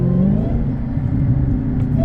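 A car's engine drones through its exhaust at a casual Sunday morning car meet, a low, steady rumble with slight rises in pitch, close and loud, with no clear hard rev.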